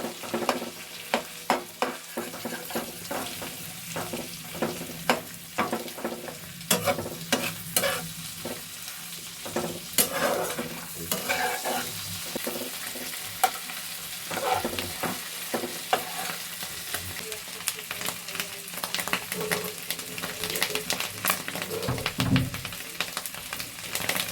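Fish roe frying in hot oil in a pan, sizzling steadily throughout while a utensil stirs it with repeated scrapes and clacks, close and continuous with no talking.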